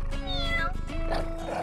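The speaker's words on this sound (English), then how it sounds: "Looks like this kitty wants to join." A cat meows in a couple of drawn-out, rising and falling calls, fairly close and clear over quiet background.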